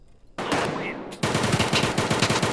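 Heavy gunfire rattles through an Escape from Tarkov raid: dense, rapid automatic bursts and overlapping shots, loud and close, continuing almost without pause after a brief quieter opening.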